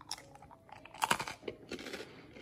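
Crunchy crust of homemade bread being chewed close to the microphone, several sharp crackling bites and chews in quick succession, quiet and isolated with no talk.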